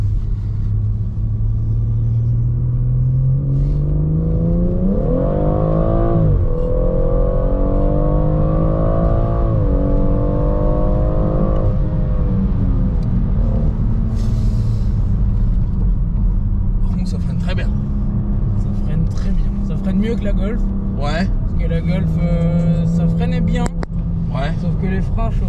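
A BMW M140i fitted with a Remus exhaust revs loudly and close, its engine note climbing and falling in several sweeping pulls with a deep steady rumble underneath and crackles near the end, while a voice talks over it.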